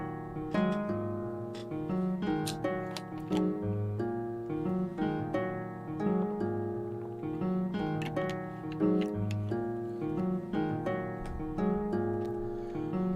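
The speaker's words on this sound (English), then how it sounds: "So we have the piano playing the original motif, and the harp is playing an augmented version of it." A piano plays a short repeating motif while a harp plays the same figure in augmented, slower note values, the two lines overlapping in a steady, layered minimalist texture with no voices.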